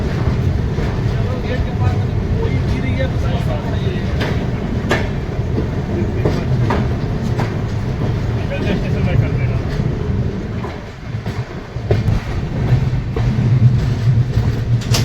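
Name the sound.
train leaving Chitrakoot Dham Karwi railway station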